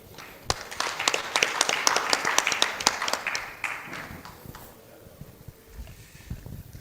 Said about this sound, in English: Please keep clapping until they come down from the stage.